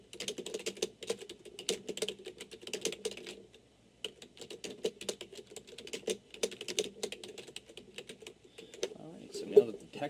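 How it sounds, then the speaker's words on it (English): Quick bursts of keystrokes clatter on a computer keyboard while text is typed into digital signage software, a brief pause midway, then more rapid typing, close and clear. "So I'm going to type in the text that I wish."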